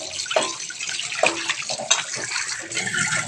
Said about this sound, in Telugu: చికెన్ ఒకసారి కడగండి